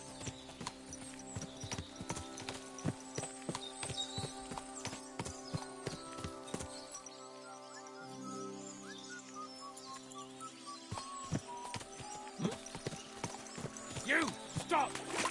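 Horse hooves clip-clop steadily in the medieval video game Kingdom Come Deliverance, a close, rhythmic patter of hoofbeats that pauses briefly midway before resuming, with game music and background sound underneath.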